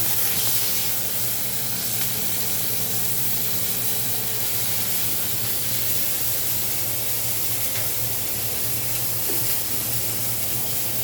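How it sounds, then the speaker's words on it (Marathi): Curry leaves dropped into hot oil with reddened garlic hiss and crackle in a steady, close, continuous sizzle with no voices over it. "लसूण गरम झाला, लाल झाला म्हणजे मग त्याच्यामध्ये टाकूया कढीपत्ता."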